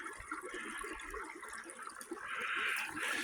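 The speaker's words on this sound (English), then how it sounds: "A healthy stream coming through it, or creek." A healthy creek flows steadily through a broken-down beaver dam, producing continuous rushing, gurgling water that grows slightly louder and brighter toward the end, with no voices.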